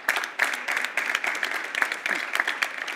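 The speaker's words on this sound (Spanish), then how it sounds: "Pido un aplauso para ella, por favor." An audience at a Spanish smart-cities conference claps for a presenter, a steady, dense patter of many hands filling the room at moderate volume with no voices over it.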